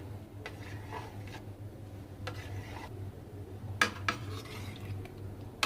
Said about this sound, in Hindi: इसी तरीके से हम दूसरी जेली को भी काट लेंगे